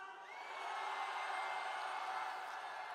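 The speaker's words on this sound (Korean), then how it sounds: "윤석열 대통령께 한 번 더 응원하는 함성" A large crowd at a political rally in Korea roars with sustained shouting and cheering in support, a broad, steady wall of voices building quickly and holding loud throughout.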